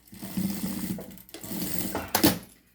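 Sewing machine stitching the lining of a thermal bag, two short whirring bursts of the motor and needle with a clack at the end, close and without talk.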